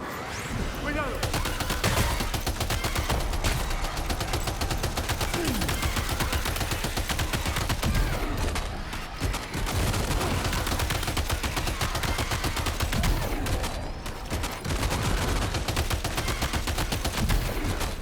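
Rapid bursts of gunfire shoot at enemies in Death Stranding 2. The shots come as dense, near-continuous volleys with only short breaks, loud and close, and speech can be heard now and then around them.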